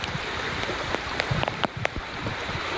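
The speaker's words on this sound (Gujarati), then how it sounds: "બધો પાણીનો વહેણ" Rainwater runs along a roadside during a monsoon downpour on a cycling route, a steady wash of flowing water and rain with scattered sharp drip ticks, moderately close and continuous.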